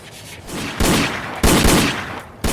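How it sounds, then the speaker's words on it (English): Several loud bursts of gunfire in an audio drama, two heavy shots or volleys ringing out in quick succession with a third starting at the end, no voices over them. "Hey, but these are shots."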